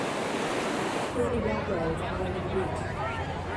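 Ocean surf rolls in at North Wildwood beach on a hot day, a steady washing roar with gentle swells, while a person talks over it.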